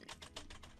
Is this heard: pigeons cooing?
no